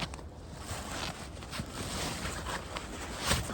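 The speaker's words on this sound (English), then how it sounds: "Sorry about the extra noise, guys. I'm pretty close to a road." Steady roar of nearby road traffic beside an outdoor military surplus camping setup, a continuous broadband wash with a passing swell near the end, no talk.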